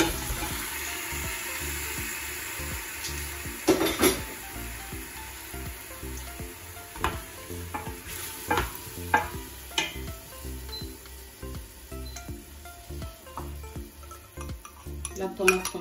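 Meat frying in a pot with onion for a white bean stew, sizzling steadily as a utensil stirs and scrapes, with clinks of metal on the pot rising and falling throughout.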